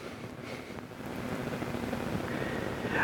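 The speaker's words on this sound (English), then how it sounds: "You can hear a school bus going by right now." A school bus passes along a road about 150 yards away, a low, broadband rumble that swells steadily and grows louder toward the end, with wind noise mixed in.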